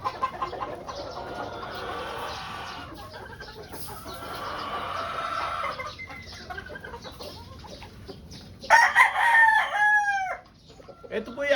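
A pure white Kelso brood stag rooster with a straight comb crows loudly and nearby near the end, following quieter background clucking and farmyard ambience.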